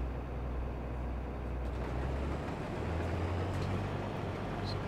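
John Deere X9 combine in Farming Simulator 22 starting up, a low steady diesel rumble building and settling into a continuous idle, heard alone at close range.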